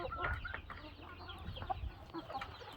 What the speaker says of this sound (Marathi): हे बघा आमचे बारके बारके पिल्ले कसे खेळत आहेत इकडे